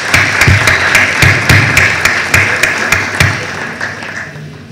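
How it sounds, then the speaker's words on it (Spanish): Audience applause at a legal panel session, heard as a thinning round of clapping with distinct, regularly spaced individual claps standing out, gradually fading toward the end. "Le damos un fuerte aplauso por su participación."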